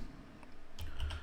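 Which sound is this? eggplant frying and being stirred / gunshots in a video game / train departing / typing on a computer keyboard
typing on a computer keyboard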